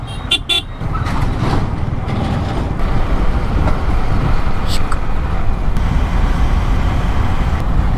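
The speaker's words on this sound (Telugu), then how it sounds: "ట్రాఫిక్" Busy road traffic rolls past near a bridge on the way to a barrage outside Nellore, a constant dense roar of cars, trucks and buses punctuated by a few sharp horn toots at the start.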